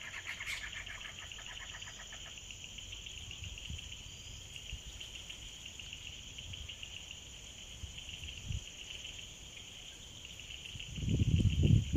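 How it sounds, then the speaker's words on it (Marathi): Steady, high-pitched chirping of crickets at dusk outdoors, a continuous layered drone with a brief burst of faster chirps near the start and a soft rustling thump at the very end, no voices. "या बाजूला सगळा रातकिड्यांचा आवाज सुरू झाला आहे"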